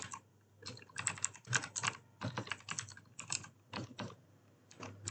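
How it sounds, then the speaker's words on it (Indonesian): Keystrokes on a computer keyboard, entered at a Linux terminal, come in quick close bursts separated by short pauses, crisp and alone without talk. "Kita ketik"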